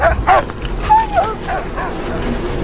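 A dog in the Mad Max video game gives a few sharp yips and whimpering barks, fairly close and intermittent, over low background game rumble.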